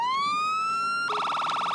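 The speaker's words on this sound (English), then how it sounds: "Let's get our sirens off" A police siren on a Jeep Grand Cherokee in the video game GTA 5 wails upward in a rising tone, then abruptly switches to a rapid, pulsing yelp.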